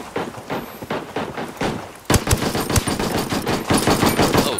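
Gunfire in the multiplayer shooter Ghost Recon Ghost War: loud, close bursts of rapid automatic fire, sparse at first and then dense and continuous, with no talk over it.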